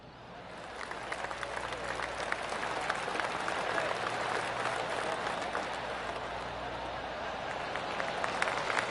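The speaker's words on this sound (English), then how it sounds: "Oh, golf clap." Spectators at a golf tournament give a sustained round of polite clapping on the 13th hole, steady and moderately loud for the whole stretch, with a low murmur of crowd underneath.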